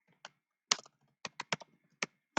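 Typing on a computer keyboard: about eight crisp, separate keystrokes at an irregular pace, close and clear in an otherwise silent room.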